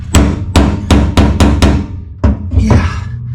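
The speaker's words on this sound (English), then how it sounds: "you gotta basically tap the socket over the bolt head" A hammer taps a socket onto a bolt head on a 1966 Mustang fuel tank: six sharp, evenly spaced metallic strikes, then a short pause and a few more uneven knocks, close and loud.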